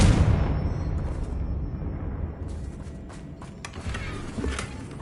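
Confringo blasting spell going off in Hogwarts Legacy, a loud booming blast at the start that rolls into a long rumbling tail with scattered crackles and debris bursts, alone with no talk.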